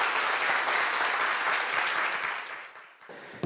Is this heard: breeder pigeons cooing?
no